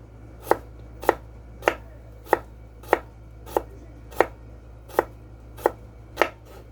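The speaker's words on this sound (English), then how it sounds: "So now I'm going to cut this really thin. I'm going to make some thin strips out of these" A knife slicing food into thin strips for a Mediterranean salad on a cutting board, eleven crisp, evenly spaced chops about half a second apart, close and clear over a low steady hum.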